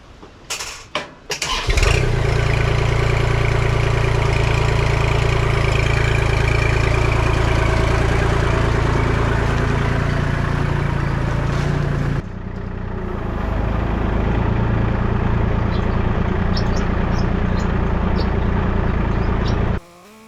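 A Kubota L2501 compact tractor's diesel engine cranks and catches, then runs at a loud, steady idle close by, easing slightly in tone partway through before cutting off at the end.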